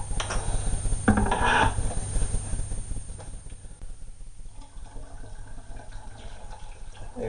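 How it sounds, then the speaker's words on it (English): Water is poured into a ginger beer container to top it up, a close splashing stream strongest early on that tapers into softer trickles and dribbles, with no one speaking. "is top it up with water, leaving about 1 inch at the top. So you add more water to it."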